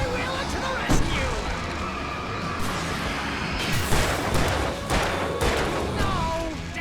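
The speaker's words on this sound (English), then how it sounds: "Goddamn turret sensor firing!" An automated sensor turret fires in Alan Wake Remastered, sending several sharp, booming shots at irregular intervals through a noisy scene, while voices talk underneath.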